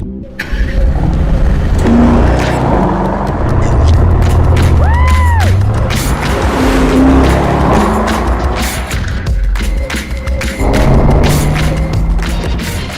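A 2022 Mercedes-AMG SL roadster engine revs and roars loudly, rising and falling through several pulls with crackling and booming bursts over a deep exhaust rumble.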